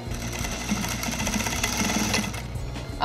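A sewing machine stitches over collage necklace pieces in a fast, continuous mechanical chatter, close and steady for a few seconds before stopping.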